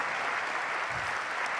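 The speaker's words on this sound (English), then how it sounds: "can I get you to give a warm round of applause to our panelists tonight?" Warm round of applause from an audience at an urban planning spring social, thanking the evening's panelists; a full, even burst of many hands clapping close by, loud and unbroken.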